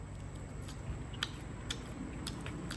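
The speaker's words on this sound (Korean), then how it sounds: "씹는 맛이 있네." Chewy, gelatinous skin of a freshly speared fish, with a fatty layer underneath, chewed close to the mic in soft, moist squishy bites and faint clicks, steady and quiet with no talk.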